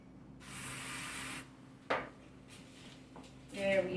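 A spray bottle of coconut oil hisses in a long burst over vegetables, followed by a light clink and a shorter second spray, faint and close, with kitchen handling noise.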